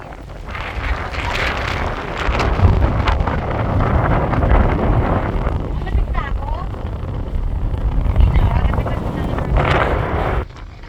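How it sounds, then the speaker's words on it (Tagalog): Strong wind roars and buffets the microphone continuously, with people talking and exclaiming over the gusts. "Ang lakas ng hangin!"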